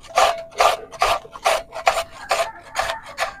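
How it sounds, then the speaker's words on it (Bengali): A carrot is rubbed by hand against a grater in a home kitchen, producing about eight steady, rhythmic rasping strokes, close and fairly loud, with no voices. "আমি গাজরটাকে ঘষে নিচ্ছি এখন"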